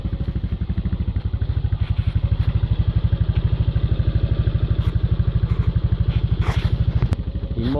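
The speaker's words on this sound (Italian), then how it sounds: "Dopo questa operazione accendere il motore." Honda SH 300i scooter engine idling after an oil change, a steady close rhythmic putter with fine mechanical clatter running evenly throughout.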